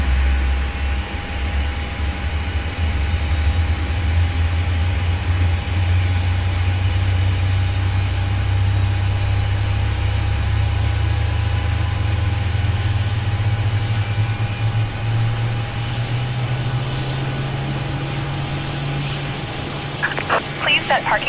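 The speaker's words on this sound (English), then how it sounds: "let's introduce fuel to engine number 2" An airliner's number 2 engine spooling up in Microsoft Flight Simulator with a Boris sound pack, a steady low hum rising slowly in pitch over a constant whine.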